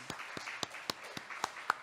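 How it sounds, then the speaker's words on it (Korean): Scattered hand claps from a church congregation welcoming visitors, about seven sharp separate claps over a soft room murmur, thin rather than full applause. "우리 한번 박수로 환영하도록 하겠습니다."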